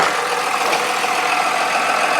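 Jeep XJ engine running loud and steady, heard up close from underneath the vehicle as a continuous rough mechanical roar with no talk.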